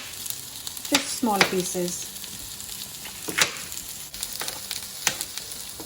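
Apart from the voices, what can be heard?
red peppers frying with onions and potatoes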